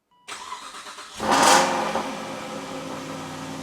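An Aston Martin Vantage engine starts with a sharp crank and catch, settles into a rumbling idle, then gives one strong rev that swells and fades back to a steady idle, close and loud with no talk.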